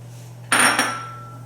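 Ingredients for steamed fish, green onion and ginger, are dropped into a bowl with one close, bright clink and short clatter that rings briefly and fades.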